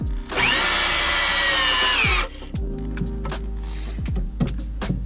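A power drill drives a pre-tapped screw into a wooden Adirondack chair, one loud sustained whirring run of about two seconds, then quieter clicks and handling knocks of the tool and wood.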